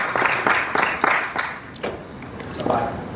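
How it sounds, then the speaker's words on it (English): Several people applaud in a courtroom, with a few distinct bursts of clapping that rise and fade rather than running as one continuous ovation, mixed with a faint murmur. "People are applauding."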